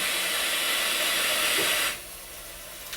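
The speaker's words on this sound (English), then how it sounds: "hit the start button on the front of the instrument. This will close the safety shield" A Mooney viscometer's safety shield closes after start is pressed, a loud pneumatic hiss that runs for about two seconds and cuts off abruptly, followed by a faint click.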